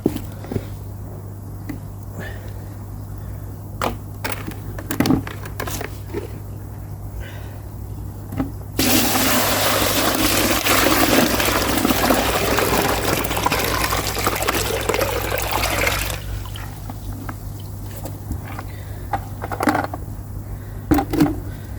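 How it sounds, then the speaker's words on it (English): Pond filter water tipped from a bucket into a net: a loud, continuous gushing pour lasting several seconds, set between quieter stretches of scattered knocks and drips over a low steady hum. "I want to tip the water out the bucket into this net to see how many bacteria balls I've actually got in my pond"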